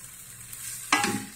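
Mutton fry with freshly added coriander leaves sits in a pan, a low simmering hiss at first, then a sudden scraping stir that lifts into a brief louder sizzle.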